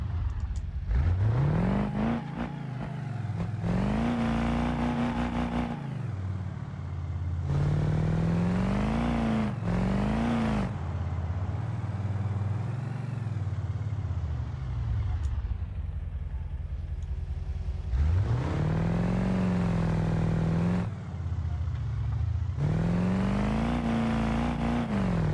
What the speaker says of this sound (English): I'm easing on the throttle and it's still roasting the tires.